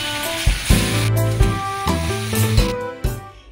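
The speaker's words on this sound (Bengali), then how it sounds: "দিয়ে সেদ্ধ পেঁয়াজ পেস্টটা দিয়ে দিলাম।" Boiled onion paste hits hot oil already holding turmeric and Kashmiri chilli, giving a loud, close sizzle and hiss that bursts and settles while it is stirred, with a tonal hum running underneath.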